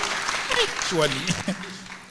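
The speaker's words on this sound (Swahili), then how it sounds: "Hebu piga makofi kubwa." Clapping from an audience at a Nairobi panel forum on public debt, a continuous hiss of many hands under a voice speaking over it throughout.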